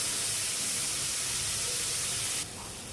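Onion and tomato sauté in a pan for a mutton rakti fry, giving a steady close sizzling hiss that stays even and then drops abruptly quieter near the end.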